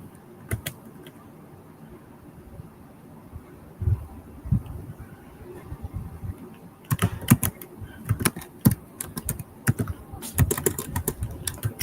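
Clicks from a computer keyboard come sparse and light at first, then build into quicker bursts of keystrokes at close range.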